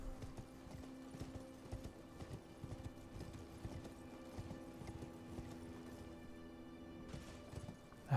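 Horse hooves clip-clopping in a steady run in the video game Elden Ring, a continuous even rhythm under game ambience with no talk.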